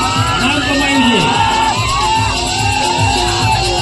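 Crowd at a Gujarati gathering cheering and applauding as a guest is welcomed, a loud, dense roar of shouts and whoops that swells steadily throughout, with voices mixed in.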